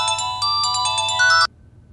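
A phone ringtone plays a bright electronic melody of short repeated tones, loud and close, for about a second and a half before cutting off abruptly into near silence.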